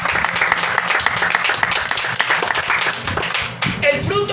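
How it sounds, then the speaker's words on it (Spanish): A church congregation applauding, with dense, steady clapping from many hands throughout and voices mixed in beneath it. "¿Cuántos le aplauden a Dios?"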